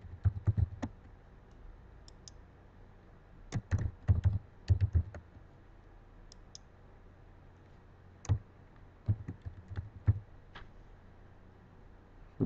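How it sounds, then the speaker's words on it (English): Typing on a computer keyboard in irregular bursts of quick clicks separated by pauses, with a few isolated key taps, close and quiet against a faint background hum, no talking. "I'm going to type a name in every"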